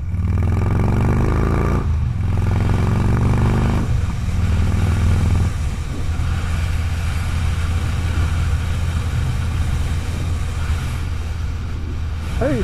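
A Harley motorcycle ridden with clutchless shifting roars loudly and continuously, the engine note rising and dropping with several audible gear changes as it accelerates, close and without talk.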